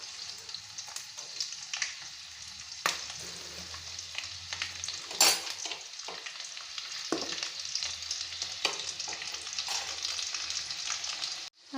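Garlic fries in a hot pan, sizzling and crackling steadily close up, with the scrape and clink of stirring breaking in now and then.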